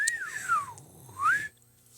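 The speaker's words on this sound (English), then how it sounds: "Slide whistle noise." A slide whistle glides down in pitch, pauses, then swoops back up, loud and alone.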